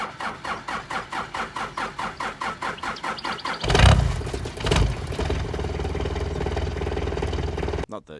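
A car engine cranks with a rapid, rhythmic starter churn for a few seconds, then catches and fires loudly before settling into a steady, fairly loud idle that cuts off abruptly at the end.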